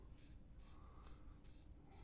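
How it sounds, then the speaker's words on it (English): A cricket trapped indoors in a studio gives a faint, high-pitched chirping in brief repeated pulses, quiet against a steady room hiss. "I still got that cricket in the studio."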